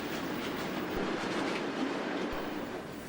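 A Märklin model railway locomotive runs along its track with a continuous rolling rumble, broken by a couple of faint rail-joint clicks, steady and close.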